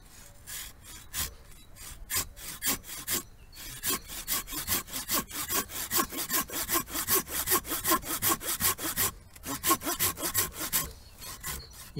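Hand saw cutting through an apricot tree branch ahead of grafting, a steady run of rhythmic back-and-forth strokes after a few slow starting pulls, close and clear with no talking.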